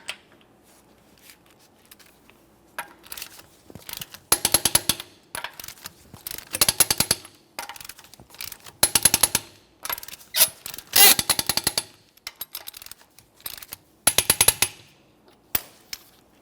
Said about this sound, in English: We're going to be torquing these in a crisscross manner to that 90 foot-pounds.